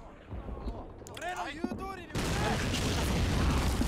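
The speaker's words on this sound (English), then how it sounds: "Enemy artillery still firing at that one tank." Enemy artillery in the WWII strategy game Men of War: Assault Squad 2, with a few distant booms and whistling arcs of incoming shells, followed by a dense, continuous rumble of battle noise.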